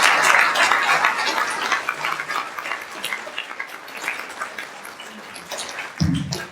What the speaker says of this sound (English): I want us to give them a hand of applause again